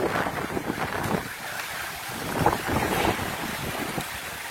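Tornado-strength winds roar through Pondok Ungu in Bekasi, a loud, gusty rushing that buffets the microphone with rumbling surges throughout.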